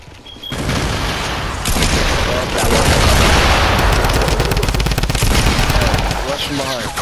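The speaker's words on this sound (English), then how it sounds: "There's some gunshots, probably us." Gunshots in the video game Fortnite, dense rapid firing and heavy booms running continuously at close range, with voices talking over the barrage.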